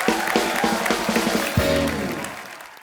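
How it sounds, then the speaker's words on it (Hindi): Studio audience at a TV comedy show breaks into loud, dense applause, a sustained wash of clapping that gradually fades toward the end, with music entering partway through. "एक बार अक्षय पाजी, इलियाना और ईशा के लिए जोरदार तालियां।"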